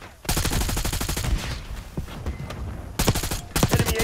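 Rapid automatic gunfire in Call of Duty Black Ops 6 rattles in long, loud bursts, briefly pausing and then resuming in shorter volleys, with faint voices underneath.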